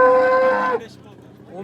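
A single loud cow moo at a livestock market in Yangiqo'rg'on, held for under a second then cut off, leaving quiet background chatter.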